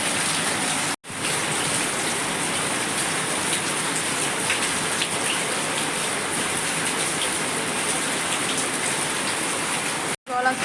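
Heavy rain pours down steadily with a dense, continuous wash of water, as rainwater gushes into a house. The downpour stays loud and close throughout, broken only by two brief dropouts.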